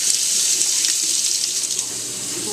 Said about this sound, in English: rinse it off with the denture too